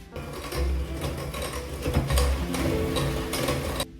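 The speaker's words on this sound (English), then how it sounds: "First, we're gonna whisk together melted butter" Melted butter and sugar being whisked together for Christmas brownies, heard as a steady, close whirring with a motor-like drone and rattling texture that runs almost unbroken through the whole stretch.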